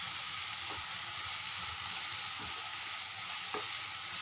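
Vegetables frying in a pan with turmeric and salt, giving a steady, loud close sizzle with occasional soft stirring knocks, no voices over it.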